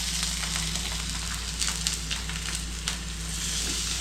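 Semolina batter sizzling steadily on a ghee-greased pan, a constant close frying hiss with small crackles and no talk.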